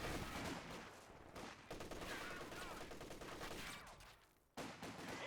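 Sustained machine gun fire rattles in the Company of Heroes 2 video game, a dense continuous burst of rapid shots layered with other battlefield gunfire and explosions, briefly dropping before resuming.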